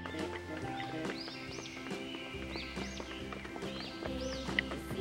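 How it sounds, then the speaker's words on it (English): A horse neighs in an animal-sound recording, its whinnies rising and falling over steady hoof clip-clops and faint birdsong, moderately near and without speech. "H for horse."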